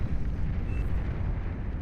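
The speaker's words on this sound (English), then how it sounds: "Beautiful explosion over here as Maximus's base, or maybe Miximus's base" A low, rumbling explosion in the real-time strategy game Beyond All Reason, a steady deep roar that fills the whole short moment without any clear onset.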